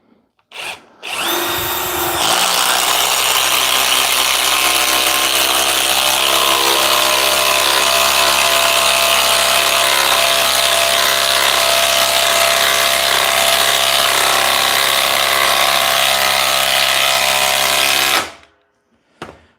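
A Milwaukee M12 power drill runs loud and continuous for about sixteen seconds, close up, starting with a quick trigger blip and stopping abruptly.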